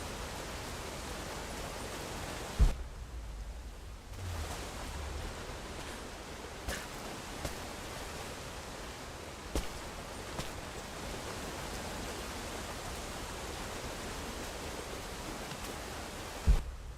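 Steady broadband rush of a waterfall in the video game Rise of the Tomb Raider, a continuous wash of falling water with faint clicks and thumps over it and no talking.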